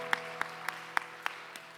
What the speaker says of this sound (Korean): 우리 박수로 서로를 응원하고 축복합시다.